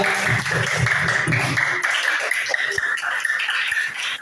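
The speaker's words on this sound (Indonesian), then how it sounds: "Kita beri tepuk tangan dulu untuk kelompok 3." Classroom audience applauding group 3 during a teaching-practice session, a dense wash of hand claps that stays steady throughout, with voices murmuring underneath.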